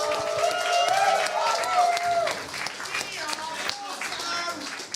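A crowd at the CTUK 2025 finals applauds and cheers the winner, with steady clapping and some whoops running throughout while a voice speaks over it.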